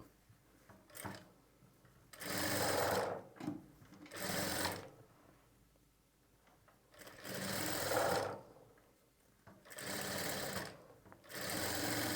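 A sewing machine stitches fabric piping in several loud, rapid runs of a second or two, broken by quieter pauses with soft handling clicks.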